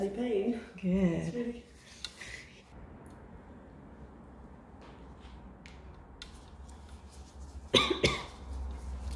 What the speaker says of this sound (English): I just want to cough.